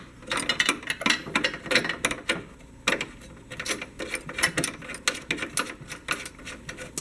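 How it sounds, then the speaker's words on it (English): Rapid ratcheting clicks in quick bursts as a bolt is wrenched back into a Nissan Pathfinder R50 skid plate, close and fairly quiet, with short pauses between runs. "and put back the bolt."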